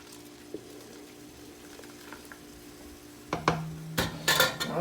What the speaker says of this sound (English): Now give this a stir.